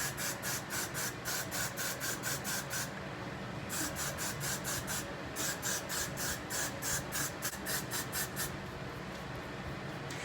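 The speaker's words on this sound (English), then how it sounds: "Now we spray, right?" Hair spray hisses onto a wig in repeated short, rapid bursts with brief pauses between runs, close and loud, with no voices.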